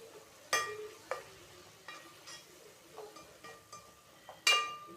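Masala being stirred in a pan for a homemade egg gravy: a few sharp metallic clinks and scrapes of a spoon against the pan over a faint sizzle, quiet and sparse, with no talk.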